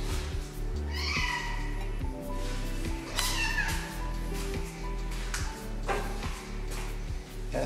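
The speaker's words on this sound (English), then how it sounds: "This cat followed me in." A cat inside a house meows several times, close and clear, with a few drawn-out rising calls over a low background hum.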